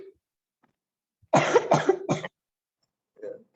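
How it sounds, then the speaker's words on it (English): Someone coughs three times in a quick burst over an online meeting microphone, followed by a softer throat sound, with near silence around it. "I can hear people coughing"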